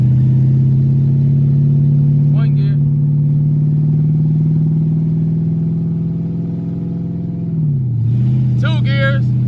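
An LS-swapped Chevrolet Malibu engine holds a loud, steady drone as the car pulls through a gear, then the pitch dips at a shift before climbing again, with brief voices heard over it.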